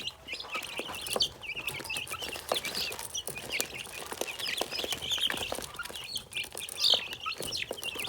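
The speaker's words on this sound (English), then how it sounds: "Chicks. That's what they are" Young chicks cluck and peep continuously in a busy, overlapping chorus, with many small chirps close by and a steady level of agitated calling throughout.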